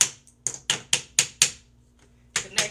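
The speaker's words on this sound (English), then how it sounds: "then you use a little hammer thing, which this little baby hammer that come with it" A small hammer supplied with a shelf kit taps the shelf parts together, about eight sharp, close knocks in an uneven rhythm with short pauses between them and no talk.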